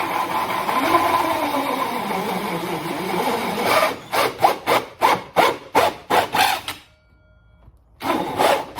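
Something being sawn by hand: a grinding rasp, then a run of about nine loud rhythmic back-and-forth strokes, a brief pause, and the cutting noise resumes, close and harsh with no talking.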